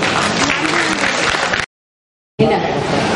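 Audience applause fills a state film awards ceremony hall, dense steady clapping that cuts off abruptly, pauses in silence, then resumes just as loud.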